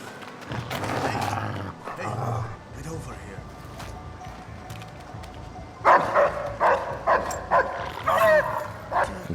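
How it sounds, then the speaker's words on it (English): Guard dogs bark in the Splinter Cell: Blacklist video game on Xbox 360, a muffled volley early on, then a louder run of sharp barks in the last few seconds, mixed with game ambience and a voice. "dogs are indeed back, and they can be pretty tough to deal with"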